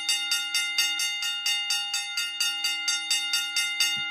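A bell rings in a steady, rapid series of bright metallic strikes, around fifteen in about four seconds, loud and close, with no talking.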